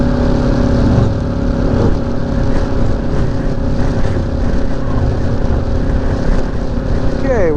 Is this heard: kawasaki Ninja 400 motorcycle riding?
yes